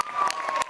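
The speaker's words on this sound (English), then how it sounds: "Boogie29, yeah, round of applause" A short burst of clapping and cheering from an audience at a rowdy town-hall event, loud and close, with a steady whistle-like tone running beneath.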